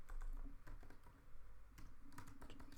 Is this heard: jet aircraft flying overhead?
no